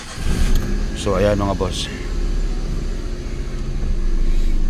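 Suzuki Alto car with a distributor problem starting and idling outdoors: a steady low engine rumble and mechanical clatter running continuously, with someone talking over it near the start.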